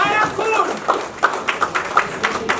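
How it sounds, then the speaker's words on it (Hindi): Brief talk gives way to steady rhythmic clapping with regular beats close by, as guests applaud a newly engaged couple, Ritik and Shweta, at their engagement celebration. "मिस्टर मिसेस ओ भाई के लिए जोरदार ताली।"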